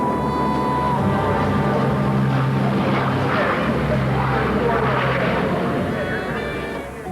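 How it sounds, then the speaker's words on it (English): World War II warbird airplanes fly over the Oshkosh airshow, with up to fifty in the sky at once, making a steady, loud engine drone and propeller roar that fills the whole stretch and fades slightly at the end. "As many as 50 airplanes are in the sky at one time for these presentations."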